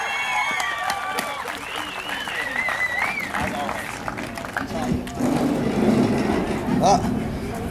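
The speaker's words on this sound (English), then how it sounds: "let's clap him up" An audience clapping for a performer at a live event, a broad clatter of hands mixed with loud voices, shouts and sung or musical tones, busy and crowded throughout.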